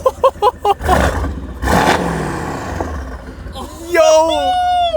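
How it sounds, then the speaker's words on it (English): A BMW M2 turbo engine revs in short bursts, then gives a longer rising roar with a whirring turbo note, while people talk excitedly close by throughout. "Yo, the turbo actually sounds so good too."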